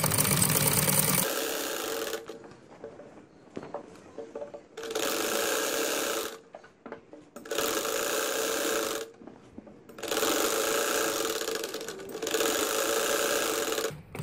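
A sewing machine stitches a poncha (mohri) trouser hem, running in four loud, steady bursts separated by quiet pauses with small handling clicks.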